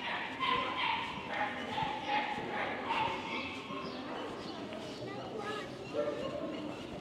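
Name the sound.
small dog barking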